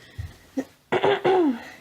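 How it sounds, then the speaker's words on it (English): Flu-stricken people cough and clear their throats close up: a few short dry coughs, then a louder burst of two or three harsh coughs, with no talk. "You hear us coughing?"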